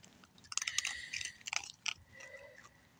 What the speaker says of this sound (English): Isn't that funny how they stop chewing and then so they can listen?